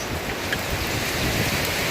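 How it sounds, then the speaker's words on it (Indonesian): Strong storm wind swirls outdoors near a factory during a windstorm, a steady, loud broadband rush and roar with no breaks, buffeting close to the microphone. "Anginnya muter-muter"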